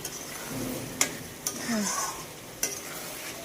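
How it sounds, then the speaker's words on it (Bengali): Potatoes fry with spices in a pan, a continuous close sizzle broken by a few sharp clicks and scrapes as a spatula strikes and stirs, no voices. "মশলাটা দিয়ে আলুটা ভেজে কষাচ্ছি"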